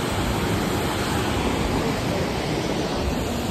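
Water pours steadily at Jogni waterfall near Manali, a dense, unbroken roar that stays loud and constant throughout with no voices over it.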